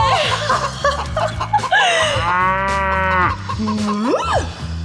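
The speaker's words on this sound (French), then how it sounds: "Mais est-ce que c'est une vache que j'entends?" A cow moos loudly and close by in drawn-out, rising calls, mixed with chuckling voices and other animated sounds.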